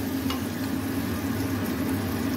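Water poured into fried spice masala in a hot pan while making an egg gravy, producing a steady, even sizzle with a low frying hiss throughout and no voices.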